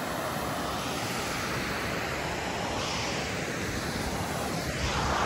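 A waterfall roars in a constant broad rush of falling water, loud and unbroken from start to finish.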